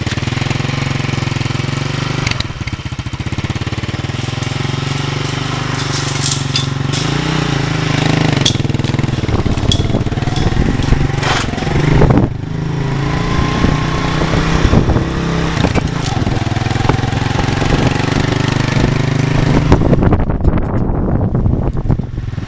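A motorbike engine on a farm in Malawi starts and runs with a loud, rattling chug, close by, its throbbing idle continuing steadily with wind buffeting the microphone.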